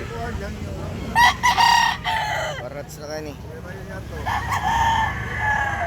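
Native roosters crow repeatedly at a crowded market expo, several loud nearby crows rising over background clucking, crowd murmur and brief talking.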